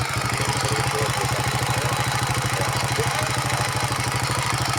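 A motorcycle engine idles steadily with an old, recently replaced CDI unit, giving a fast, even chugging pulse that stays close and constant throughout, with no voices.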